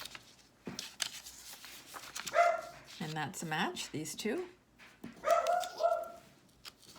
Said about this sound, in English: And my dog is still barking.